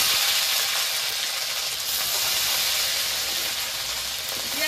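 Onion paste hitting hot oil in a pan, producing a steady, bright, close sizzle that holds evenly for several seconds with no talk over it.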